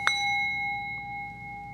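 A single small hand bell struck once to clear a room, a bright ringing tone that rings on and slowly fades over nearly two seconds in a quiet space.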